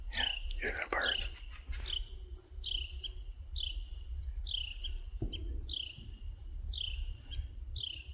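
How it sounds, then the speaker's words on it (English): Woodland birds sing at dawn as the light comes up, repeated chirping phrases close by over a low hum, with a brief murmured voice early on. "Yeah, hear the birds."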